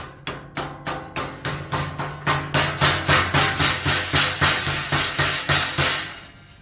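Sheet metal for an HVAC base transition being bent on a brake, a steady run of about twenty loud, evenly spaced metallic knocks and clanks, close up and without talking.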